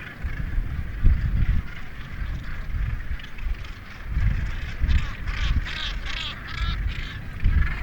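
Crowded gannet colony calling: harsh, overlapping croaking cries repeat in irregular bursts against a steady background of wind and birds.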